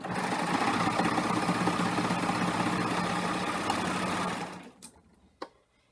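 A serger overlock machine runs a three-thread wide overlock stitch in one continuous loud, close buzzing run that stops abruptly, followed by a couple of light clicks and handling sounds.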